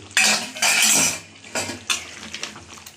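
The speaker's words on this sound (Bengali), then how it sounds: "আমি এবার এই আলুগুলো এর মধ্যে দিয়ে দিই।" Potatoes tipped into a metal pan of chicken kosha, with loud clattering bursts of utensil against pan and stirring scrapes, then lighter taps and a faint sizzle.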